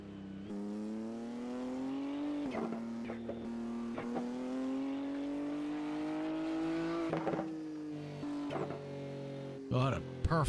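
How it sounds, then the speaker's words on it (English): A BMW GT3 race car engine screams at high revs through upshifts and downshifts, a clear sustained wail rising and dropping during a racing championship round, with commentary talking over it. "What a perfect sounding BMW."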